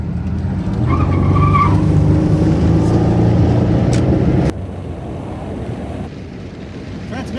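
A 1998 Pontiac Grand Prix GTP with out-of-round tires and an unhappy transmission revs loudly as it spins its tires, a dense roar with a rising squeal, then cuts to a lower, steadier drone of the car rolling on.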